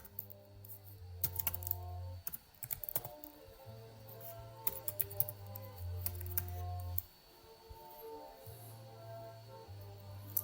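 Keys click on a computer keyboard as a key name is typed, with irregular faint taps and short bursts over a low steady hum, quiet and close.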